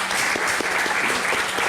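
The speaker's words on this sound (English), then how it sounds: "please give them a warm round of applause." A conference audience at an Islamic fund and wealth management forum gives the panelists a warm round of applause, a steady dense clatter of many hands close by.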